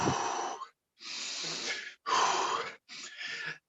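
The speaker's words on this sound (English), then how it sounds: "Does anybody feel like you're breathing more than usual?" Heavy, loud breaths come in four long gusts, drawn in and pushed out close to the microphone with short pauses between, performed by actors in a sealed-room improv scene.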